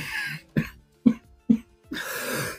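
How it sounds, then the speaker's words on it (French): Several sharp, separate coughs, close and fairly loud, ending in a longer raspy throat-clearing burst. "Ça me fait tousser"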